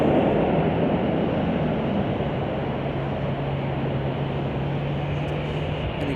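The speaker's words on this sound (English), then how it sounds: "that was UPS Flight 5608 from Louisville, Kentucky, Boeing 767-300 ER" A UPS Boeing 767-300ER jet at Chicago O'Hare airport produces a loud, steady roaring rumble with a sustained low hum running through it, holding constant for the whole stretch.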